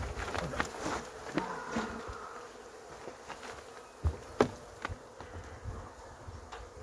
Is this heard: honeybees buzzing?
yes